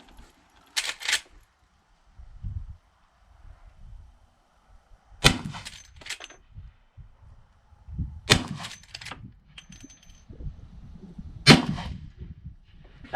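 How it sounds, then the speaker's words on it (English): A Henry Model X rifle fires 44 Magnum rounds at an outdoor range: four sharp, loud cracks spaced a few seconds apart, with quieter mechanical clatter between shots. "I'm going to run a couple more rounds through it just because I'm already out here at the range."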